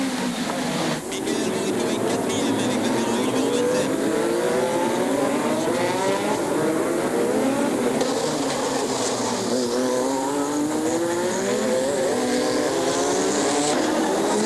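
Formula 1 cars racing around Monaco in 1986, loud high engine whines climbing and falling through gear changes as cars pass close, under Portuguese race commentary.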